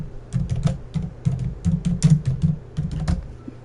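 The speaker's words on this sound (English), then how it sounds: "clicking here on my keyboard" Steady typing and clicking on a computer keyboard, close and clear, with irregular bursts of keystrokes in quick clusters and short pauses between them, no voices.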